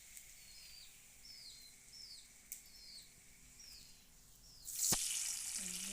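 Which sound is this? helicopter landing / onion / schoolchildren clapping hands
onion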